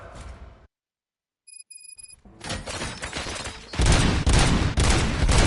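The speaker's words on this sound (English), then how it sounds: "Gunshots? What's going on?" Gunfire in the Robocop Rogue City video game, with a brief silent gap and a high electronic chime before rapid bursts of shots rattle in and build into loud, continuous volleys.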